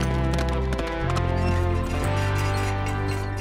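Jolly Jumper, the cartoon horse from Lucky Luke, gallops in a brief burst of quick hoofbeats layered under loud, busy theme music.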